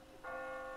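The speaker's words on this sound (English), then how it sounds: "I just got spooked by those bells" A bell strikes once in The Walking Dead video game, a sudden faint metallic tone with a sustained ringing hum that carries on evenly.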